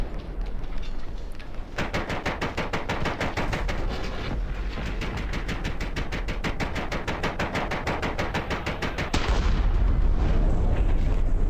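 Soviet T-34 1942 tank in War Thunder firing its cannon, a loud continuous run of rapid repeating impacts and booms over a steady engine rumble, ending in a heavier blast.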